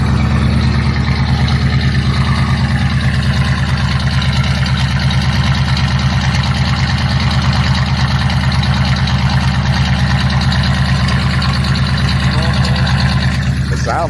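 A 2019 Ford Mustang 5.0 V8 with its catalytic converters removed idles loud and close, a steady throbbing rumble that holds unbroken for the whole stretch, with people talking over it.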